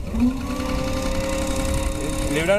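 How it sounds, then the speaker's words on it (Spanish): A GRS railway track switch machine runs with a steady mechanical whir and rising tonal whine as its clutch engages, loud and continuous, with a faint voice beneath. "Ustedes van a ver que va a empezar a trabajar el embrague"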